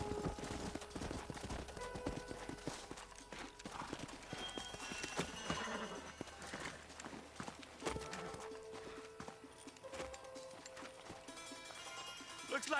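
Horses clip-clop steadily at a trot in the Red Dead Redemption video game, hooves near and continuous with an occasional neigh, layered over busy game ambience and background music.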